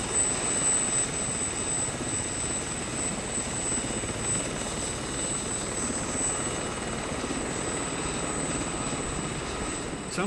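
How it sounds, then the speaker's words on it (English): A helicopter flies over a volcano in Kamchatka, its steady rotor and turbine roar loud and constant throughout, with no voices. "Somehow, I don't think these choppers were designed with heli-skiing in mind."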